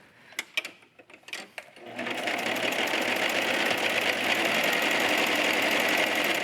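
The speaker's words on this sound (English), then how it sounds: "the first thing I'm going to do is run these through the cover stitch" A cover stitch sewing machine runs over leggings fabric, a dense steady mechanical whir that starts after a few light handling taps and keeps going loud and close.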